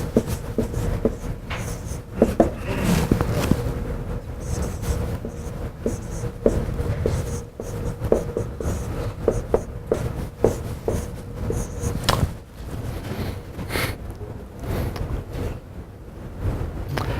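Chalk or marker writing on a board during a math lecture on matrices: continuous scratchy strokes and taps over a noisy room hum, with no voice.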